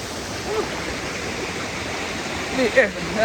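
Rushing river water at El Hoyo de Jaya, San Francisco de Macorís, Dominican Republic, flows in a steady, broadband roar close by, with brief faint voices near the end.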